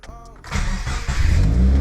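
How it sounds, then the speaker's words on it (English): Engine of a 2020 Subaru WRX starting up, cranking briefly and then settling into a steady low idle that grows loud and close, with no voices over it. "then start the car for like 5 seconds and let it run."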